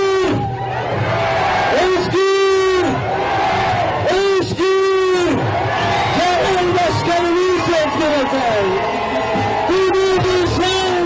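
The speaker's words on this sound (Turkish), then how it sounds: "alkış istiyoruz belediye başkanımıza" A large political rally crowd in Denizli roars, cheers and chants loudly and continuously for the city's mayor, with voices swelling in rhythmic waves and an amplified voice cutting through.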